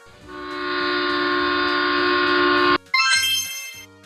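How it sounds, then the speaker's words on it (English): A heritage train sounds a long, steady horn blast held for nearly three seconds, loud and close, then a short break and a brighter chiming tone follows, alone without talk. "A heritage train is an old train kept for tourists."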